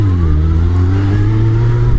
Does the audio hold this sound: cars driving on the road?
yes